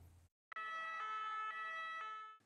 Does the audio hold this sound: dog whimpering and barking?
no